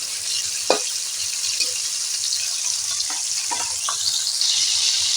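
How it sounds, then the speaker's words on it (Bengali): Prawns fry in hot oil in a wok, a dense continuous sizzle with a few light clinks and spatula touches, near and without voices. "কড়ার তেল হয়ে গেছে মাছ দিয়ে দিলাম চিংড়ি মাছ ভাজতে বেশিক্ষণ টাইম লাগবে না"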